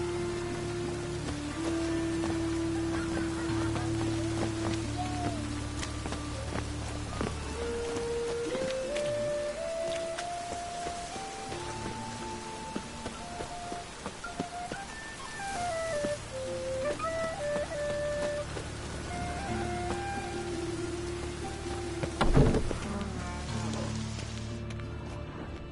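Steady rain falls in a town, a soft continuous hiss of drops on surfaces with wavering tonal sounds drifting over it and a brief louder knock near the end.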